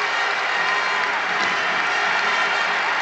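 A large football crowd at a Stevenage versus Carlisle match cheers and applauds continuously as the teams come out, a dense, steady roar that stays loud throughout with no voices standing out.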